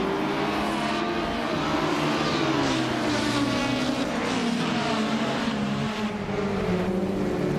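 Race cars in a video game launch off the line at Spa, led by a 2004 Opel Corsa 1600, with steady loud engine drone and rising revs sustained throughout, no gaps.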